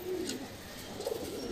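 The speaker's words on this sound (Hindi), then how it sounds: "अच्छी क्वालिटी के कबूतर।" Soft, low pigeon coos roll out twice against a steady background hiss, gentle and fairly close.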